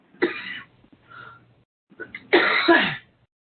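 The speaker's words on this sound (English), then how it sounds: "I know there's someone coughing in the background." Someone coughing at a distance, two harsh, noisy bursts separated by a short pause, the second longer and stronger, with faint rasping in between.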